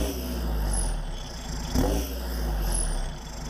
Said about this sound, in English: They're jealous of the hood stack and the tractor flap.